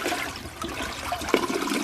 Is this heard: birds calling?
no